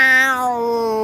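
A human voice imitates a cat's meow: one drawn-out, close, loud meow that slides slightly downward in pitch, heard alone.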